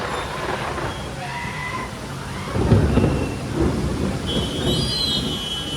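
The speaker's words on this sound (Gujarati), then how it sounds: "ભારે વીજળીના કડાકા થાય એવો." A low roll of thunder rumbles up midway through a rainstorm in Surat, heard from a balcony over a steady rain hiss, with faint background tones and no talk.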